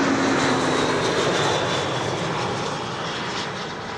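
A loud, steady airplane engine roar at Amsterdam Schiphol Airport fills the scene, broad and continuous, easing slightly toward the end with no voices.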